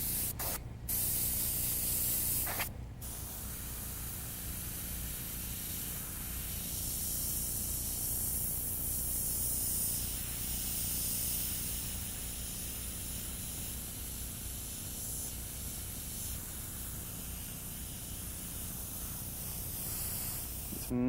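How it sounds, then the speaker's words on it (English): An airbrush sprays red iron oxide paint onto an animal painting, giving a steady, soft hiss that runs for about twenty seconds after a couple of brief stops at the start. "Maybe spray some of it back into the picture."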